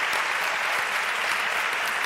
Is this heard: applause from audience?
yes